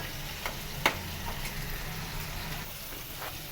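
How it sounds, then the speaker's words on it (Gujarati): Onions, garlic cloves and ginger sauté in a pan for a paneer curry, giving a faint, steady sizzle with a few light ticks and stirring clicks and no talking. "તેની અંદર લસણની કલી અને આદુનો ટુકડો પણ નાખી દેવાના છે અને તેને પણ સાતરી લેવાના છે"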